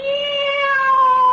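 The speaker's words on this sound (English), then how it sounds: "Oh, cat." A cat gives one long, drawn-out meow as a radio drama sound effect, loud and close with a slowly falling pitch, heard on its own.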